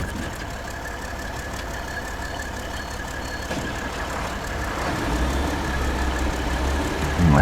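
Truck engine in the SnowRunner video game starting and settling into a steady low idle with a rough knocking rumble, getting slightly louder toward the end, no talk.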